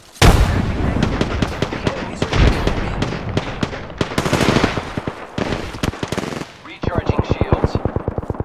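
Dense gunfire and blasts from Apex Legends, including a frag grenade explosion, with bursts of rapid automatic shots coming loud and close in a chaotic battle mix.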